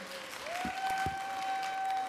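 Brief applause from an audience at an autism arts festival session on social cooperatives, welcoming the next presenter; steady, moderate clapping with a faint sustained tone running through it.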